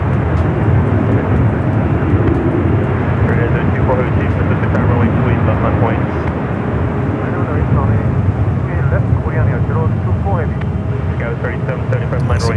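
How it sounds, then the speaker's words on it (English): A Boeing 777-300ER jet airliner roars steadily at San Francisco airport, a dense, continuous engine rumble and hiss that stays loud and unbroken throughout. "The 777 at 300 ER lined up."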